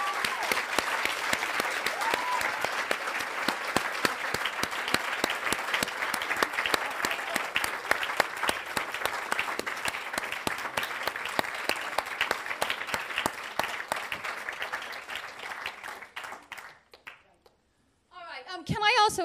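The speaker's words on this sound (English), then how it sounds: "Can we have a round of applause for Sharon?" Sustained audience applause at the 2012 Apps for Good awards ceremony, with crisp individual claps audible in a steady crowd wash that fades out near the end before a voice starts speaking.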